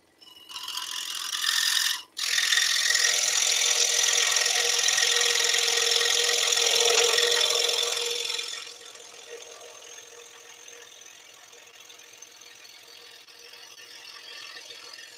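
A scroll saw with a modified-geometry blade cuts through wood at a drilled hole, a loud steady buzzing whine with a brief break, before the cut ends and only a quieter machine hum remains.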